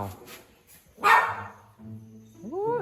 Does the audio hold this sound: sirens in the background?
no